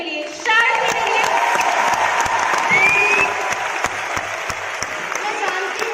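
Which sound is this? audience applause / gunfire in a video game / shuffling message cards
audience applause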